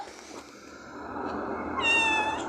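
A cat meows with a rising, harmonic cry near the end, heard close and fairly loud over a low background murmur.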